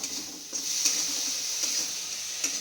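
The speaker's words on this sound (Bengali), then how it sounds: "আর এখানে এই যে পোস্ত ভাজা বানাচ্ছি" Poppy seeds (posto) stir-fried in a pan give a soft, steady sizzle with faint hiss, broken by occasional light scrapes and taps of a spatula against the pan, fairly quiet and alone.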